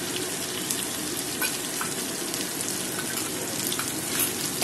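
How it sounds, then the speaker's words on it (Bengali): Two spoonfuls of coconut paste frying in oil over low heat while a Bengali prawn and bottle gourd curry is being made. A steady, close, even sizzle with faint stirring runs throughout, with no talking. "নারকেলটা ভালো করে একটু ভেজে নেব"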